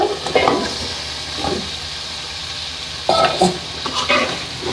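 Chicken pieces fry in hot oil in a pan, a soft continuous sizzle punctuated by a few louder scraping stirs and clatters near the start and again later, heard close with no talking.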